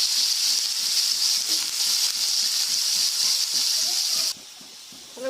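Potatoes frying in oil in a pan, a loud continuous hiss and sizzle that runs steadily and then abruptly drops to a quieter simmer near the end.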